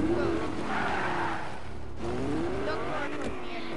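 A car in the Fortnite video game skids after flipping over, a steady loud rush of tire and engine noise with wavering squeal tones running through the whole stretch.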